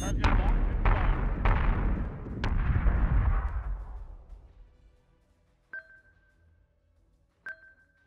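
In a space battle video game, a missile launches at a locked target with a series of heavy booming blasts that fade into a long rumble, then two short electronic beeps ring out alone.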